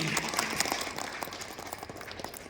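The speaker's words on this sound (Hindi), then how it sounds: "एक बार जोरदार तालियां आप सभी के लिए।" An audience claps for presenters at an adult education session, a continuous mid-level patter of many hands that fills the room evenly without a clear peak.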